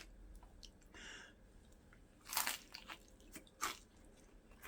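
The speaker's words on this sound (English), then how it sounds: "Got a bit of crunch in the batter." Someone bites into the crunchy batter of a large piece of fried fish from a seafood shop in Kendal. A few crisp, sharp crunches break out near the mic over quiet chewing, with no talking.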